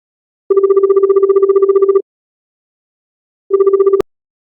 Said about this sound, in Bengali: ফোনটা তো তুলছে না।